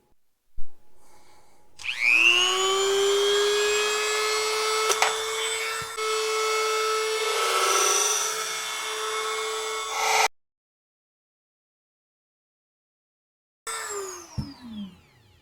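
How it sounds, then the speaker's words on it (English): A Dremel rotary tool spins up and cuts into the wood of a blue Fender Telecaster body for a pickup cavity, a loud steady high whine with rising harmonics that runs for about eight seconds, stops abruptly, then briefly revs down again. "So I'll get the Dremel. I'll work on the width first."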